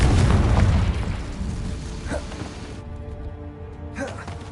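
A Confringo fire spell bursts in Hogwarts Legacy, a loud booming explosion at the start that rumbles and fades, followed by smaller pops and crackles.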